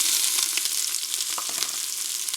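Onions, celery and carrots sautéing in canola oil in a heavy saucepan over medium-high heat, a close, steady, bright sizzle throughout.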